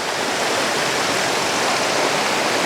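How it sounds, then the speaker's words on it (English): Citico Creek rushes and cascades in a loud, steady wash of water, close and constant, with no voices. "Finally, some rushing, cascading water."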